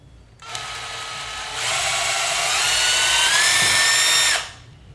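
A power drill bores a hole in material for a homemade TV antenna in a garage, a loud close whine that starts suddenly, rises in pitch under load, holds steady for a few seconds and then cuts off.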